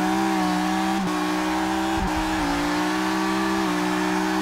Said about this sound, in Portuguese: Complicado mesmo é fazer um borrachão com V12, né, gurizada?